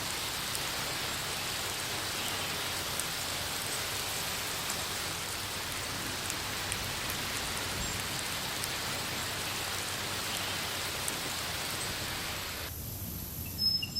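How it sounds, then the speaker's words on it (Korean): Rain falls steadily onto the ground near a stream with willow trees, an even, continuous hiss of drops that softens near the end. "비가 대지를 적십니다. 지독한 가뭄을 해결해줄 단비입니다."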